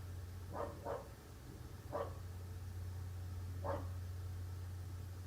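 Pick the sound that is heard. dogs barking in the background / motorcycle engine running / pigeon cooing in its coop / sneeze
dogs barking in the background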